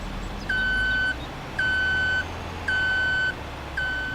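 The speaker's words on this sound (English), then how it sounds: "That beeping is loud." A vehicle in the Farming Simulator 22 video game sounds its reversing alarm: four loud, evenly spaced electronic beeps, each held about half a second, over a low engine drone.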